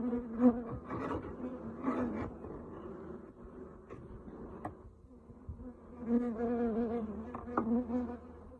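Honeybees from a relocated colony drone and buzz steadily around their hive in a warm orchard, a close, continuous hum that swells and fades as insects fly past, with no talking.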